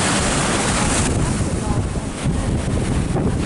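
Strong wind buffets the microphone over rushing sea waves during a storm flood at the Laboe shoreline, a continuous loud roar with no pauses.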